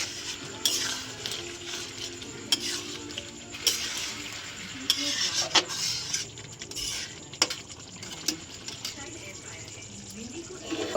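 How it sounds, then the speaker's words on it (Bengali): A spoon scrapes and clinks against a pan while egg curry with ghee is stirred, with soft sizzling underneath and intermittent metallic taps in an irregular rhythm. "এক চামচ ঘি দিয়ে দিলাম। ভালো করে মিশিয়ে নেব।"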